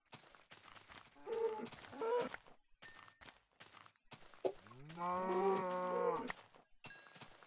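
Minecraft cows moo twice, a short call and then a longer drawn-out low moo, amid rhythmic chirping and clicking game sounds, fairly close and with no talking.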